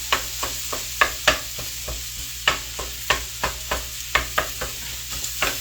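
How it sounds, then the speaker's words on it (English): Maple sausage browning in a frying pan is stirred quickly, giving a run of sharp, close scraping strokes in an uneven rhythm over a low, steady sizzle. "I'm just stirring the sausage really quickly."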